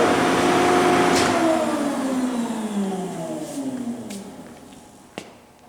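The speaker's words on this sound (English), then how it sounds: "Hope the audio comes out all right with the hydraulics running" Hydraulics of an Extrude Hone Spectrum Series 10/8 one-way abrasive flow machine run in a shop, a steady loud broadband machine roar with falling whining tones that slowly fades, then a sharp click near the end.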